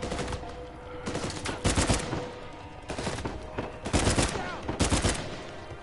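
Repeated bursts of gunfire in the video game Uncharted 4, set on a savanna, come in loud clustered volleys separated by brief lulls over a steady background of game ambience.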